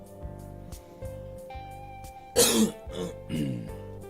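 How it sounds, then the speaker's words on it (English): A man clears his throat once, loud and close, between stretches of quiet background music. "For those that wonder why I'm clearing my throat all the time"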